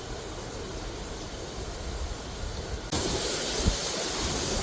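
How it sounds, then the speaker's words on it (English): Hurricane Milton winds gust outdoors beside a garage, a constant loud roaring rush that surges stronger partway through, buffeting the microphone. "the winds are picking up even more"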